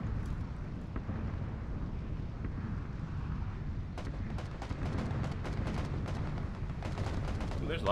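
Distant gunfire from a firefight on a hillside in PlayerUnknown's Battlegrounds, a series of sharp, faint cracks clustered in the second half over steady wind-like background noise.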